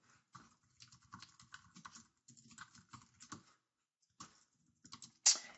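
Code is typed on a computer keyboard in quick, close clattering bursts of keystrokes separated by brief pauses, ending with a single louder key strike.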